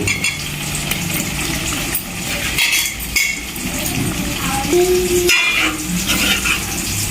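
Boiled potatoes drop into a pan of frying tomatoes for a village-style aloo kurma; steady sizzle with stirring scrapes and a few clinks of a utensil against the pan, close and moderately loud.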